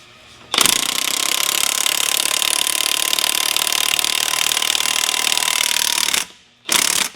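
A pneumatic impact gun tightens an accessory drive hub on an LS engine with a Holley mid-mount front runner drive, a loud sustained rattling hammer lasting several seconds, a brief stop, then a short second burst.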